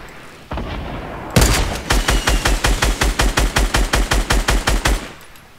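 Rapid automatic gunfire from Fortnite, about eighteen loud evenly spaced shots in a steady burst after a single earlier report, with no talking over it.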